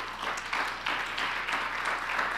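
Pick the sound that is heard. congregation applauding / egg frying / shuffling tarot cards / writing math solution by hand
congregation applauding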